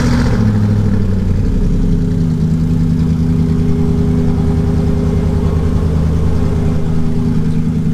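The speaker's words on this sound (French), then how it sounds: "ça fait vraiment un bruit de bateau cette voiture" The engine of a Mercedes SLR supercar starts up and then runs with a loud, deep, boat-like rumble. The steady low drone holds throughout, with no talking.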